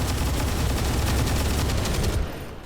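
Dense, continuous gunfire from a squad volley in XCOM 2 Long War 2, a loud sustained rattle of overlapping shots for about two seconds before cutting off abruptly.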